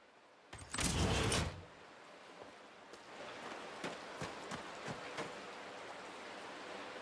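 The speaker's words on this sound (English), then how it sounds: "Let's open this door." Door opening in the game Uru: Ages Beyond Myst, a loud burst of about a second followed by faint scattered ticks and clicks against quiet ambience, with no voices.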